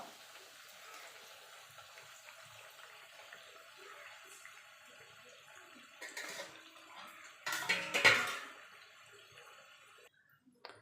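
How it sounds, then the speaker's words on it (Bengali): Layered khaja pastries deep-fry in hot oil over a low-to-medium gas flame, giving a steady hissing sizzle that bubbles up louder in bursts toward the end before briefly dropping away. "এবার গ্যাসটা লো টু মিডিয়ামে রেখে এগুলোকে লাল লাল করে আমি ভেজে নেবো"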